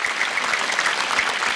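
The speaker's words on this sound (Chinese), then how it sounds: "掌声先鼓励鼓励" A studio audience at a variety-show taping claps in a steady, dense burst of applause that holds at an even level throughout, with no talking over it.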